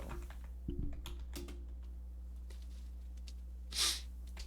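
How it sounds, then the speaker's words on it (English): Typing on a computer keyboard: a few scattered key taps early on over a steady electrical hum, then a brief sharp noisy burst near the end, no talk. "I'm typing up Nintendo game consoles from oldest to newest"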